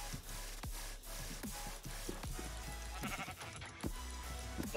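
Sheep in the Minecraft video game let out several short, evenly repeated bleats with clicky game sounds between them, clear and fairly close with nobody talking over them.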